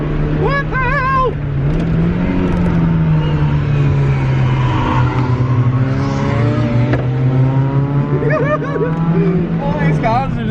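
A car engine in a racing video game holds a steady drone through the whole stretch, rising slightly in pitch and falling back, with a few higher whines above it. A person talks loudly over it.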